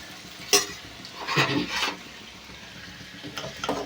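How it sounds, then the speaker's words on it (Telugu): Potatoes frying and being stirred in a pan for aloo fry, a steady low sizzle broken by a few scraping and clinking stirs of a utensil against the pan, close and moderately loud, with no talk. "అయితే ఇంకొక కొంచెం ఫ్రై అవ్వాలండి"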